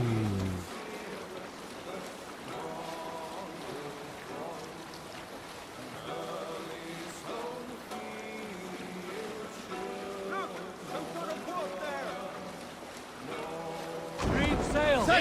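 A Viking sailing ship gliding across water in Assassin's Creed Valhalla, a soft continuous wash of sea and creaking hull beneath game music and voices, with a louder splash of water near the end.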